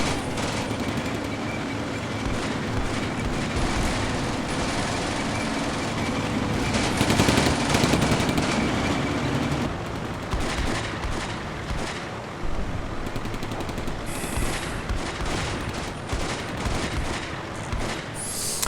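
Gunfire from the World War II tactics game Combat Mission Beyond Overlord plays as dense, continuous rattling bursts over a rushing, surf-like wash. The volume stays steady and loud throughout, with a swell in the middle.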